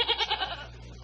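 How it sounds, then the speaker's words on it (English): A goat bleats in a quick wavering burst of about four pulses, fairly close and alone, trailing off into a low steady hum. "Aunt Lily, I could have sworn I heard a goat."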